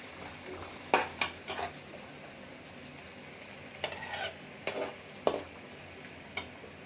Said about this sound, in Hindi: और प्याज को फ्राई कर लेंगे।